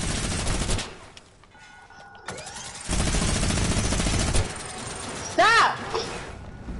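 Gunfire in the video game Fortnite, with bursts of shots and broadband crackle around overlapping talk, a brief whooshing sweep near the end, and quieter gaps between.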